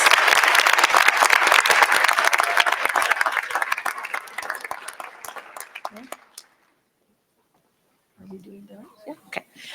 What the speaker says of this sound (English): Please join me in giving a round of applause to the Asian Pacific Islander class of 2022 graduating masters.